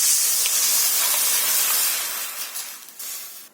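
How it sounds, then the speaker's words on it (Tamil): Dissolved tamarind and tomato liquid hits a hot cooking pan, producing a loud, close, hissing steam burst that stays strong for about two seconds and then fades unevenly, with no talking. "இப்போ இந்த புளியும் தக்காளியும் கரைச்சி வச்சதை ஊற்றிக்கலாம்"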